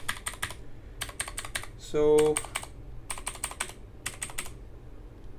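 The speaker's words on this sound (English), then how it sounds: "here is our keyboard, and I think this thing is loud" Typing on a Redragon Kumara K552 mechanical keyboard with blue clicky switches, rapid loud clacking bursts separated by brief pauses, close up, with a short spoken word partway through.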